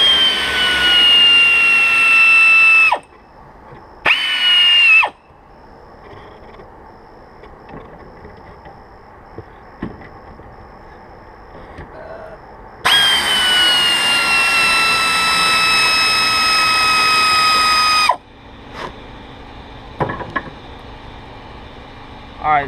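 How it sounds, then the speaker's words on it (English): Air tools with a 14 mm socket on Honda S2000 brake caliper bracket bolts: loud, close pneumatic whine in several bursts, one short and one long of several seconds, with quieter workshop noise between. "Air tools always make the job easier."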